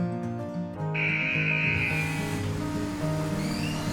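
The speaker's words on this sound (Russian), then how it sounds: "Итак, сначала надо сбить крупную грязь водой." In a cartoon, a jet of water sprays mud off a car, a steady hissing rush of water laid over bright playful background music, loud and continuous with no talking.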